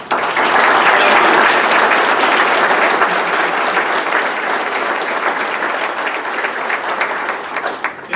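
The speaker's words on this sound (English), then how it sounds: "will you please stand up so everybody give you a round of applause" Sustained, loud applause fills a hall of fame banquet for high school football coaches, a thick steady wash of clapping from a large crowd that holds for the whole stretch with little change.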